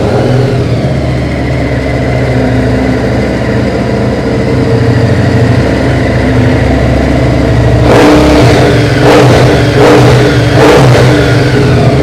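A 2019 Harley-Davidson Street 750 V-twin motorcycle engine idles with a deep, steady rumble, then gets revved in several sharp, loud throttle blips near the end.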